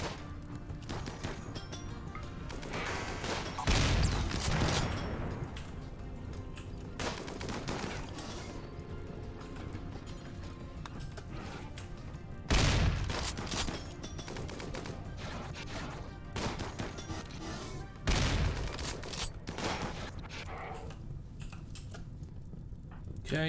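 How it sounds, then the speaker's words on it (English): Centipede gunfire in the game RimWorld: continuous rattling bursts of shots over about twenty seconds, with three heavier booming impacts standing out, loud and busy throughout. "I don't like that centipede firing at us"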